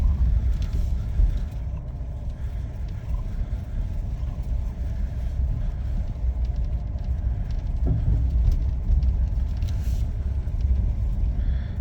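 A Ford F150 Lightning AWD electric truck drives along snowy winter roads, giving a steady, continuous low road rumble and tire noise close by throughout, with no voices.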